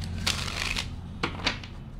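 A deck of oracle cards is shuffled close by in a few quick riffling bursts over low background hum, with no talking.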